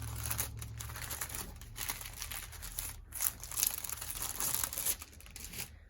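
Crinkly vintage paper ephemera rustles and crackles as it is handled up close, a continuous dry crumpling with sharper crinkles and a few louder bursts partway through.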